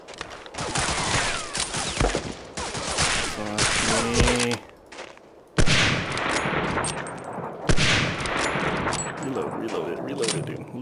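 Gunfire in the video game Medal of Honor Allied Assault during the mission Scuttling the U-529: sharp repeated shots and bursts with metallic clanks between them, under a player's talk.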